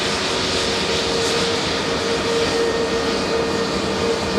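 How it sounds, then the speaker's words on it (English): An EasyJet Airbus A320neo jet airliner at Manchester Airport, a steady loud engine roar with a high whine, sustained and close throughout. "EasyJet A320neo about to muscle in front of the camera now."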